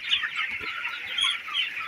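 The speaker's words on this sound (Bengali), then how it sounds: "প্রচণ্ড হারে মুরগিতে মারামারি করছে দেখুন খাওয়ার জন্য" Broiler chickens squabbling over feed on a poultry farm, a dense continuous chorus of clucks and squawks from many birds close by, with no talking.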